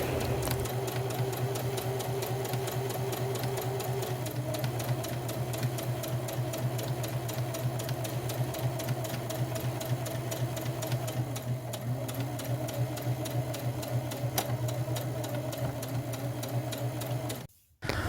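Sewing machine stitching fabric pieces for a reversible cloth face mask, a steady close mechanical whir with a fast rhythmic needle clatter running continuously, then stopping abruptly near the end.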